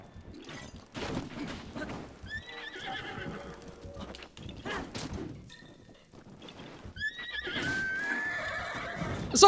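A horse in the video game Zelda Breath of the Wild neighs and whinnies several times, with clip-clop hoofbeats and occasional thuds between the calls, loud and close.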